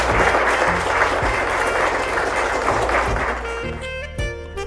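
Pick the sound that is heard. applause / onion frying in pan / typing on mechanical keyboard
applause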